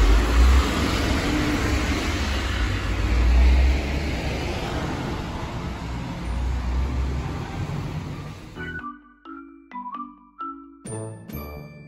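A city bus, route 779, rumbles up loudly to a stop on a German street at night, its engine and rolling noise filling the air before cutting off, followed by a few sharp chiming tones.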